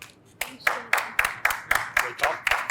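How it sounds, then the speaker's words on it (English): A slow, sparse golf clap at a food-ingredient pitch contest: about eight separate hand claps at an even, unhurried pace, fairly close and crisp, with no talking over them. "Golf clap."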